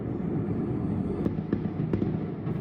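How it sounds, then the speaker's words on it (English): Fireworks explode across city districts in Hong Kong in the early morning of Lunar New Year, a dense continuous rumble of distant blasts punctuated by a few sharper cracks, with no voices. "Many fireworks displays were sighted in various districts early this morning"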